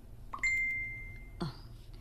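A cellphone gives a short bright electronic ding, a sustained tone followed by a second chime about a second later, clear against a quiet room.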